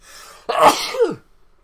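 A single sharp sneeze from a man with a cold, heard close and alone: a brief inhale, then an explosive burst trailing off quickly into silence.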